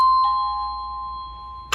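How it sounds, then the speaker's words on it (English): A digital doorbell receiver rings a single electronic two-tone chime, clear and close, its pure tones ringing out and fading slowly, followed by a faint click at the end. "digital doorbell"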